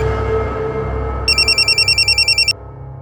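A telephone rings with a rapid electronic trill, about a dozen quick pulses in a single burst over low indoor room noise.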